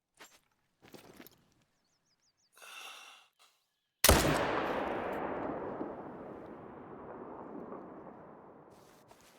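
A single loud hunting rifle shot in theHunter: Call of the Wild cracks suddenly after quiet rustling footsteps, then a long rolling echo decays across the open landscape for several seconds.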